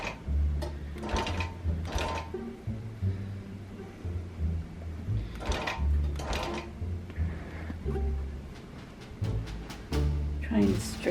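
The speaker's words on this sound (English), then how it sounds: "So I'm gonna baste it and then sew it." A longarm quilting machine basting a tightly stretched quilt, running in rhythmic bursts of rapid stitching with mechanical clunks and pauses between runs, fairly close and fairly loud.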